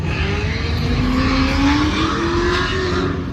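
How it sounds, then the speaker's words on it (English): A loud Ford Mustang engine revs hard with a rising, sustained roar, close by and steady throughout. "Damn, that Mustang's screaming."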